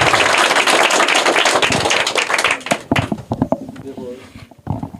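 A group applauds a correct answer during a school quiz game, loud and dense clapping that thins into scattered claps and taps, with voices mixed in.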